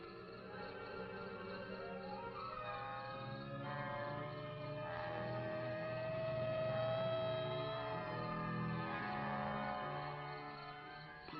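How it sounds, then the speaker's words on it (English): A police car siren wails steadily as it approaches along a rural road in a 1965 sci-fi horror comedy, the sweeping tone growing louder at midpoint over a low engine rumble. "Police car."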